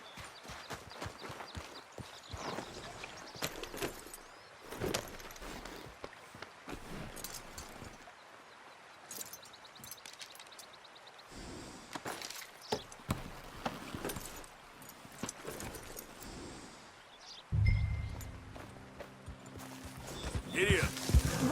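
Horse hooves clip-clop steadily on a trail in Red Dead Redemption 2, a rhythmic trot heard beneath spoken dialogue between two riders, with a louder thump late on.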